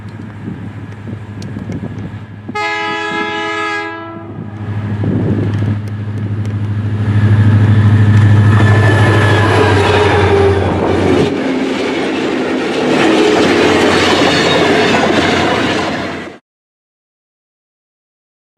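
A GT26C L Class diesel locomotive of Western Australia rumbles past with a deep, steady engine drone. A multi-tone horn sounds early, then wheel and wagon noise swells and holds before cutting off abruptly.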